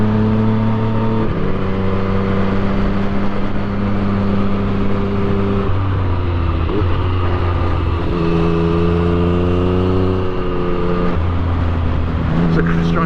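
A Yamaha MT-09 motorcycle on a winding road, its engine droning loudly and steadily with clear gear changes and rising revs, constant wind rush throughout and a rider talking over it.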